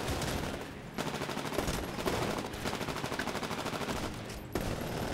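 Rapid automatic gunfire in the sci-fi shooter Titanfall, long bursts of fast rattling shots broken by brief pauses, fairly loud and sustained across the whole stretch.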